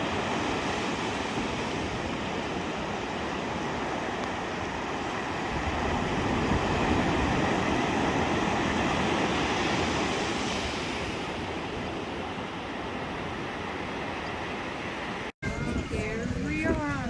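Ocean surf washing steadily onto the beach at Lakewood, Myrtle Beach, South Carolina, at sunrise, a broad continuous roar with some wind, ending in a brief dropout and a few faint voices.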